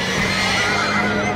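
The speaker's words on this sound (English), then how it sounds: "My God, that sounds like horses." Horses whinny and neigh loudly inside a barn at night in a short, close burst of rough, shaking calls.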